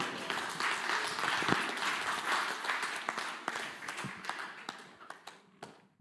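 A church congregation clapping together in praise, a dense, fairly distant wash of applause with sharper individual claps standing out as it gradually thins and fades.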